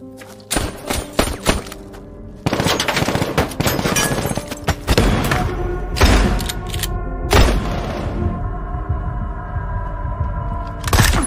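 Film gunfire as Mike kills Rusty's guards outside Rusty's house: repeated loud gunshot bursts and booming impacts, with sharp cracks and rapid volleys over a dense action soundtrack, with no talking.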